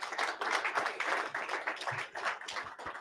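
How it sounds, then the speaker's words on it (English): An audience claps for a panel at a talk on modernizing masculinity, a dense, even round of applause from a crowd, moderately loud and continuous throughout. "I just want to take another moment to give you all a little round of applause for the panel."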